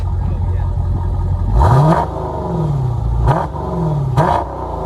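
Dodge Challenger 6.4L HEMI with a Jones bullets exhaust, idling with a deep burble and then revving in three sharp bursts that swell and fall back, loud and nearby.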